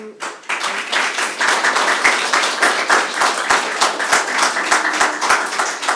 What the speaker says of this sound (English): Just trying to speak loud enough over the claps.